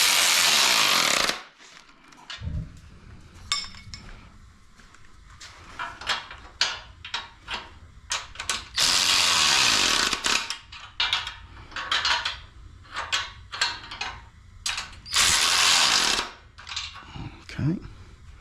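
Bolts being torqued down with a wrench in a home garage workshop: bursts of loud broadband power-tool-like whirring separated by clinks, rubs and handling noise, with talk between the bursts.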